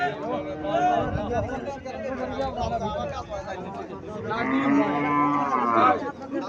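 A calf moos loudly and close at the Bhucchi cattle market in Cumilla, two drawn-out lowing calls amid buyers and sellers talking and crowd chatter.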